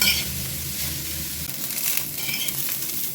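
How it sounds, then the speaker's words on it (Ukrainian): Cabbage fries in a pan with a dense, steady hiss and crackle, close and fairly loud, while it gets stirred, with a couple of brief scraping surges over the sizzle. "Капуста підсмажилася, перемішую трошки ось так."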